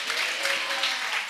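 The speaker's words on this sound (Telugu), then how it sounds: "ఏది చప్పట్లు కొట్టి హల్లెలూయా చెప్పండి" A congregation at a Telugu Christian church service claps together in a steady, dense patter that stays even and fairly loud throughout the short moment.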